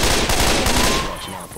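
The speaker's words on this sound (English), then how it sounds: "This shotgun will put the hurt on them zombies." Shotgun blasts against zombies in Left 4 Dead 2, a burst of loud overlapping gunfire with rapid reports through most of the moment, tailing off into quieter game noise.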